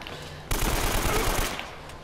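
Machine-gun fire in the video game Uncharted, a dense sustained burst that starts abruptly and rattles on loudly for about a second before tailing off, with no talking over it.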